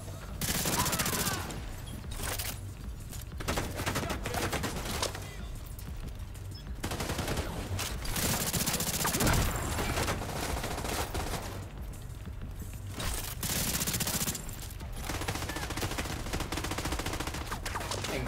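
Sustained turret gunfire in The Division 2, long rattling bursts of automatic fire that repeat with short gaps over a steady game background, with occasional voices.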